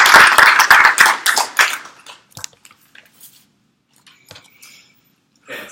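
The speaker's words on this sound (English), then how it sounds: "Let us give him another clap, everybody." Audience clapping, a dense burst of applause for about two seconds that quickly thins to a few scattered claps and near silence, with a brief rustle at the end.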